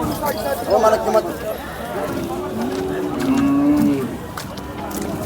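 Bullocks low and moo several times at close range, with people chatting in the background of a busy outdoor livestock gathering at the Sangola bullock market in Maharashtra.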